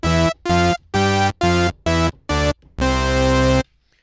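SynthMaster 3 software synth with oscillator drift for an analog character: a sequence of six short, buzzy, harmonically rich notes with gaps between them, then a longer sustained final note, loud and clean with no voice.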